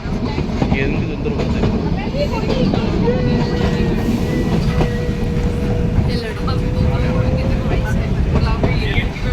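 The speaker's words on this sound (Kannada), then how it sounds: "ಇಲ್ಲಿ ಟ್ರಾಯ್ ಟ್ರೈನ್ ಟರ್ನ್ ಆಗ್ತಾ ಇದೆ" The Ooty toy train rumbles steadily along its track with a continuous low roar, people chattering and calling out over the running noise.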